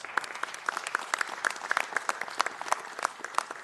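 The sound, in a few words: audience applause for board members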